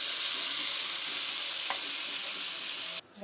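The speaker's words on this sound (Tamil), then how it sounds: "இப்போ நம்ம வந்து அரைச்சி வச்ச மசாலாவை இதில் சேர்த்துடலாம்." Garlic and ground masala fry in a pan for a Tamil garlic-pepper kuzhambu, giving a steady close sizzle with a brief stir partway through before the sound cuts off near the end.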